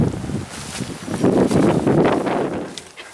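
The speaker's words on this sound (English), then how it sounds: "Here comes the wind." A gust of wind sweeps through an outdoor campsite during fire lighting, rushing and buffeting the microphone in a brief swelling burst.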